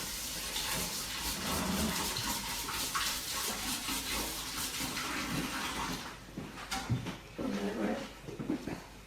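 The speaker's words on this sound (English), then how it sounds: "And give that a quick wash." Running water from a tap splashes steadily over a sticky gingerbread spatula as it is rinsed, a continuous close hiss that breaks into a few uneven spurts near the end.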